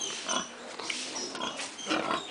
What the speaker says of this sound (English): Here we have some more pigs sleeping, just enjoying the day.